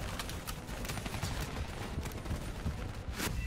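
Gunfire in the video game Call of Duty Black Ops 3: a dense, continuous crackle of rapid shots and bursts throughout, fairly quiet, with a louder blast near the end.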